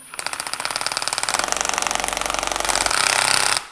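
Impact gun hammering in a rapid, even rattle of blows, loud and close, running for about three and a half seconds before it stops abruptly.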